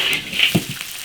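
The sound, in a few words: stir-frying soft-shelled turtle in a wok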